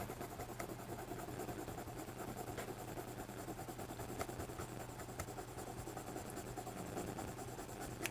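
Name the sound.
pencil coloring on paper in small circles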